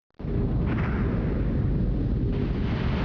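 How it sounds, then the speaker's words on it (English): A hydrophone picks up an incoming torpedo in the submarine game Silent Steel. It begins with a sudden onset, then becomes a loud, dense, rumbling roar that holds steady to the end. "Hydrophone effect. Incoming torpedo."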